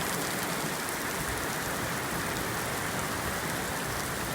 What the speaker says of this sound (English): The rain, even though it's really heavy, I can still see the scuds passing by.